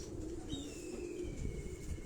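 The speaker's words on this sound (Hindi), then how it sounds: "ये ब्रीडर कबूतर हैं उनके।" Breeder pigeons on a rooftop, soft low cooing close by and continuous, with faint chirps and a thin whistle over it.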